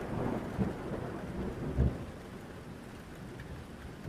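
Heavy rain pouring with deep rolling thunder, two low rumbling cracks standing out over a steady wash of rainfall in a stormy night scene.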